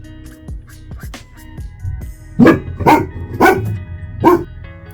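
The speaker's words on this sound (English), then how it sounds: "my dog just suddenly started barking" A dog indoors gives a few soft yips, then breaks into four loud, sharp barks close to the microphone, spaced about half a second apart.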